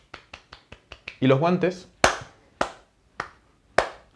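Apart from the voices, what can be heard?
hands clapping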